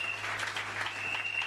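A church congregation applauds God during an evangelical Wednesday service, a faint, steady wash of clapping from a crowd heard at a distance for a brief moment.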